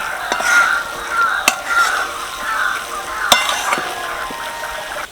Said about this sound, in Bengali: পাঁচ মিনিট মতো এইভাবে নাড়তে থাকবো যেটুকু চিনি শিরা আছে সেটা কিন্তু ভালোভাবে মিশে যাবে